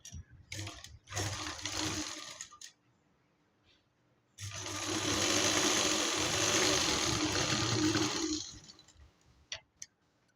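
A sewing machine stitches the shoulder seam of a baby frock, running in short bursts near the start, then one sustained whirring run through the middle, with light handling noises and no talk.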